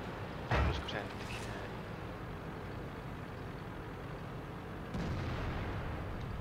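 Tank cannon fire in World of Tanks rings out in two distant booms a few seconds apart over a constant rumbling engine drone, with someone talking in Finnish around them.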